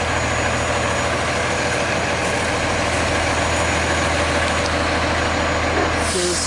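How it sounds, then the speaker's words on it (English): A fire truck and an ambulance idle at a house scene in Ontario, Oregon, their engines giving a steady, unbroken low rumble throughout with no talk. "we do have what appears to be an ambulance as well as a fire truck"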